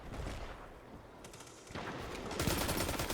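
Auto rifle gunfire in Destiny, a sci-fi shooter video game: rapid sustained automatic bursts, loud and close, that pause briefly and then resume with greater intensity, with no talking.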